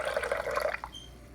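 A cup of water poured into a pot for a beef roast, a brief, steady splashing pour that stops abruptly, heard up close with no talking.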